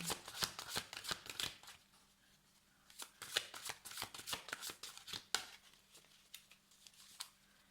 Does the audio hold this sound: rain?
no